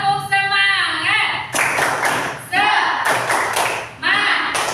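A group does the 'tepuk semangat' clap chant, with rhythmic bursts of clapping alternating with loud chanting voices in a classroom-like setting.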